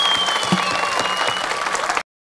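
Dense audience applause at the 12th Rokh festival in 2018 fills the space evenly, then cuts off abruptly to silence after about two seconds.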